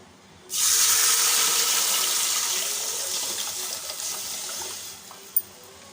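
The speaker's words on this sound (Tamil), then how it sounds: "ஏழரை டம்ளர் தண்ணி எடுத்து வச்சுருக்கோம் அதை வந்து உள்ளே சேர்த்துடலாம்" Water is poured into a cooking pot for a raw rice tiffin with dried red chillies, pepper and cumin, making a steady, close splashing gush that slowly eases before stopping, with no talking.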